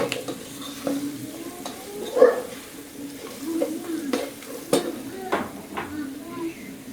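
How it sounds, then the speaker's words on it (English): Spices being stirred into masala fries in a pan, with a sequence of soft scraping strokes and light clinks of the utensil against the pan over a faint sizzle, close and steady. "Just stir all of that in."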